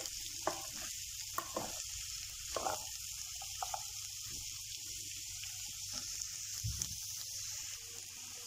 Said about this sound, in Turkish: Şöyle bir güzel karıştıralım.